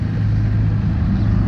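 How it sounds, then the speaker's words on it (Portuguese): Trucks passing on a small-town street, a loud, close, continuous low engine rumble. "Os caminhões passando."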